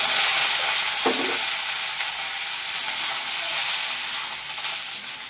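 Garlic and saag greens frying in ghee, sizzling loudly and steadily in the pan with an occasional clink and scrape of stirring, no talk.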